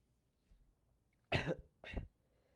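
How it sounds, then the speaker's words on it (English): Two short, sharp coughs close to the microphone, about half a second apart, against near silence. "Apologies for the coughs."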